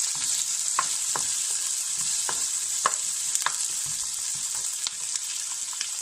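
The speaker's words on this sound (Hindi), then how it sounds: "अब इसमें जाएगी आपकी कटी शिमला मिर्च, इसे थोड़ा हल्का सा सौते कर लें" Chopped capsicum sautés with onions for chili potato, giving a loud, continuous frying hiss broken by regular spatula scrapes and clicks, with no talking.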